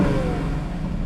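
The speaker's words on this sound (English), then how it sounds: "may even sound like an AMG motor because, well, that's basically what it is" An Aston Martin Vantage with an AMG-based engine runs in a low, steady hum, held at moderate volume with a faint rising note and no voices.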